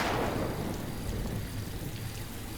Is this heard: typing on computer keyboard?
no